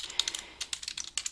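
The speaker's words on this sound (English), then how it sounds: "you'll be going directly to your web browser and typing in" Fingers tap on a computer keyboard in quick irregular bursts of crisp clicks, close and fairly quiet, with no talking.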